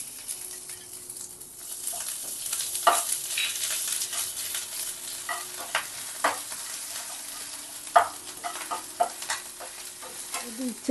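Grated ginger dropped into hot tempering oil, a bright continuous sizzle broken by sharp pops and spoon scrapes against the pan, close and alone without talk.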